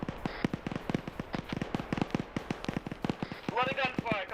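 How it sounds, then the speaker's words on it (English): Rapid gunfire crackles in a trench warfare shooter game, dense irregular bursts of sharp shots, near and far, with radio-style voices talking over the end. "A lot of gunfire, can't hear much."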